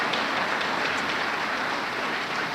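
A banquet audience at an annual chamber of commerce dinner and awards night applauds, a dense, steady wash of many hands clapping together that holds evenly without a break.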